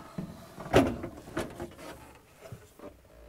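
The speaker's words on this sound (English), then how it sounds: "Slightly lift up on the ice bucket and pull it out." An ice bucket being lifted and pulled out of a Samsung refrigerator's freezer gives a short plastic scrape and clunk, followed by a few softer knocks, close and fairly quiet with no talking.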